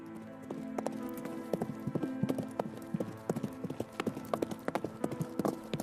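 Horse hooves clip-clop in a steady walking rhythm, close and distinct, with sharp repeated strikes against a quiet background and no talking.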